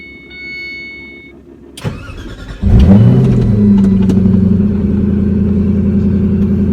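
A 2006 Ford GT Heritage Edition with a custom exhaust cranks over briefly and fires up, its engine catching with a loud roar before settling into a steady, rumbling idle that fills the rest of the clip.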